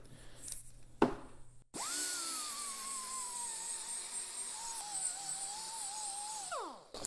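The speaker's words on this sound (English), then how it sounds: "not as aggressive as a sanding disc, but these things will take off your rust scale" A power tool fitted with a bristle disc whines steadily while scouring rust scale off metal during an axle and transfer case service, starting after a few knocks and winding down near the end, close and unaccompanied by talk.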